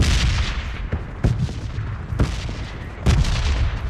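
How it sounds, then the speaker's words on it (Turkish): Grenade blast in PUBG Mobile Lite, heard as several loud booming explosive bursts amid gunfire-like cracks, with sharp hits spaced irregularly over a dense noisy battlefield background. "Ben bomba atacağım içeri bir tane."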